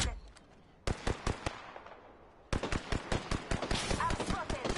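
Rapid bursts of gunfire in the battle royale video game Apex Legends, sharp close shots in quick clusters separated by a brief lull, then a denser volley.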